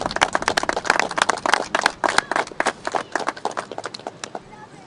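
Community members at a zombie walk event clap for volunteers, producing a brisk, uneven patter of many hands that peaks early and then thins out over a few seconds.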